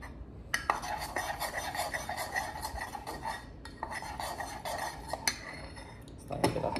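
A spoon stirs coffee in a cup, giving a steady scraping, rattling metal-on-ceramic swirl with a few sharper clinks, continuous and close with no talking.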